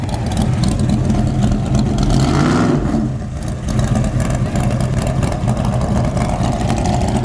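Engines of a C3 Corvette and a 392 Scat Pack idling and revving loudly at a dragstrip, a rough continuous rumble with rising and falling revs, close and dominant throughout with no talk.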